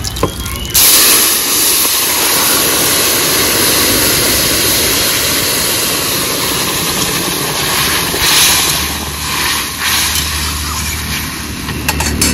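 Broth poured over hot tempering spices with radhuni in a pan for a ridge gourd and maya fish curry, bursting into a loud, continuous steamy hiss that runs strong for several seconds, close and without voices.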